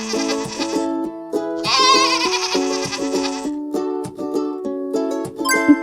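A goat bleats in wavering, quavering cries over cheerful background music, with a louder stretch of bleating near the middle of the clip.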